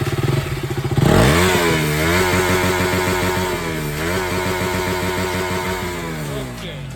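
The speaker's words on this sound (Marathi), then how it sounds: "तर गाईज आता डूक 200 BS4चा साऊंड आहे का." A KTM Duke 200 BS4 motorcycle is key-started, its engine catching after a brief cranking burst, then idling loud and close with a steady exhaust note, rising briefly in revs twice.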